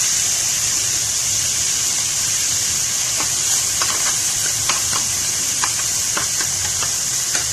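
Garlic, ginger and onion sautéing in a pan for chicken menudo, a loud, steady, close-up hiss of frying with occasional sharp crackles and light stirring clicks, no one speaking.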